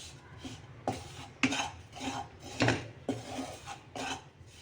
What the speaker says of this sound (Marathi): सारखं उलटणीने असं फिरवत राहायचं आहे